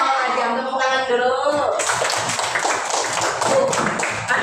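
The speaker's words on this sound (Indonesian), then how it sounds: "Tepuk tangan dulu." Children in a fourth-grade classroom clap their hands together, a brisk burst of clapping that starts midway and continues under chatter and young voices.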